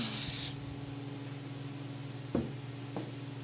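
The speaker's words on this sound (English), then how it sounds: "can of carb cleaner. Spray the rig down." A short burst of carb cleaner aerosol spray hisses loudly at the start while cleaning a Mopar 727 TorqueFlite transmission, then stops, leaving a low steady hum with a couple of faint knocks.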